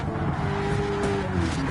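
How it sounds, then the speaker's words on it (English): A knackered Camaro race car in a NASCAR racing game gives a loud, rough, droning engine note that holds steady for a short stretch, with no speech over it. "God, you can hear that car."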